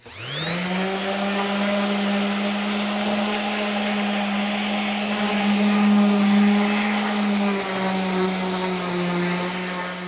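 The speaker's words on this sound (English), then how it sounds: "I'm going to grab my palm sander and I'm just gonna give this a nice even sand" Electric palm sander running steadily on a wooden centerpiece, a continuous loud motor whine with a strong low hum and bright overtones, starting abruptly and holding even for about ten seconds with no talk.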